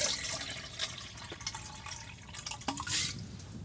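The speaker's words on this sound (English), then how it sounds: "my Nalgene has ice in it" Ice shifting and clinking inside a Nalgene water bottle on a -5°C winter camping morning, a few brief, sharp knocks and rattles over a quiet, slightly hissy background.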